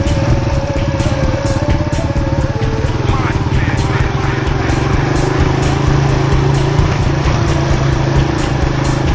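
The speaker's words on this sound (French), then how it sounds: "Et ça c'est Louf qui conduit la moto" Motorcycle ridden slowly along a rough, bumpy path in Thailand, its engine a steady, close, continuous drone with a buzzing rhythm throughout.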